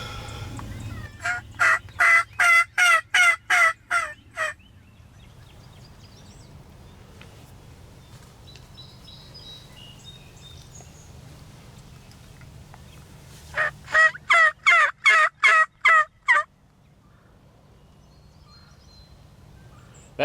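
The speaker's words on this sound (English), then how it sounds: "it happened to be the only bird we've truly heard gobble this morning" A wild turkey tom gobbles twice in the distance during spring in Indiana, each a rapid rattling burst of calls, with quiet outdoor stillness between them.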